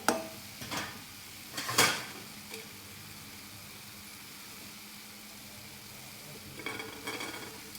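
Coconut filling cooks in a pan over a medium gas flame, giving a faint, low sizzle throughout with a few short scraping stirs near the start and again near the end, and no talking.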